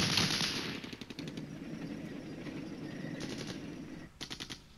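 Units in the wargame Flashpoint Campaigns Red Storm open fire, with rapid bursts of machine-gun fire rattling almost continuously, then a short pause before more quick volleys.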